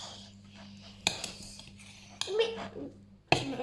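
Batter with flour being stirred in a bowl at home, a utensil scraping softly with a few sharp clinks against the bowl, quiet and close.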